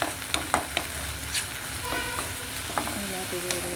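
Prawns fry in a hot pan with a steady close sizzle, broken by scraping stirs and a few sharp clinks of a spoon against the pan.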